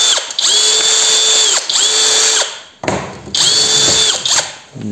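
A drill spins a mini wire brush against a metal edge in repeated bursts of about a second each, a loud whirring buzz that rises and falls as the trigger is pressed and released.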